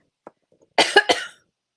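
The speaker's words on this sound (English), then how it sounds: "Sorry about the coughing." A short burst of three harsh coughs, close and fairly loud, preceded by a faint throat sound, then silence.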